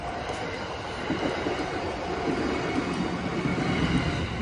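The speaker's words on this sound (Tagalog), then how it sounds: "May train na dumadaan doon." Train passing near a street crossing with stoplights in Japan, a steady close rumble of wheels and cars rolling by, loud and continuous with no speech.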